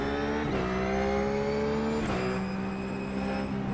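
A GT race car engine in the iRacing simulator's Blanpain Sprint Series drones steadily at high revs, with two sharp upshifts or gear changes breaking the tone, loud and close with no talk.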